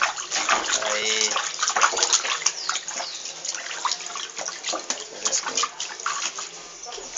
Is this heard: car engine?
no